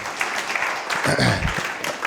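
A church congregation bursts into applause, a dense wash of clapping that swells in the middle and then trails off.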